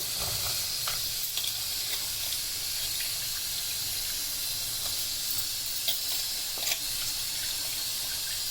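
Rice poured into boiling water in a pot for bagara rice, a continuous watery hiss and bubbling with a few soft knocks, close and even in level, no talking.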